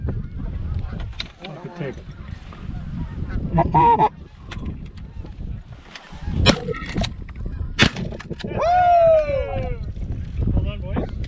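A flock of geese honks overhead during a rainy goose hunt, calls coming and going over wind and rain noise, with hunters talking and occasional sharp thumps mixed in.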